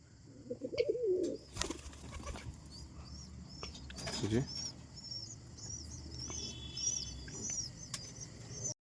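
A pigeon gives a short, soft cooing call near the start as the flock, having drunk, heads back to the loft, while small birds chirp faintly high in the background over steady outdoor rustle.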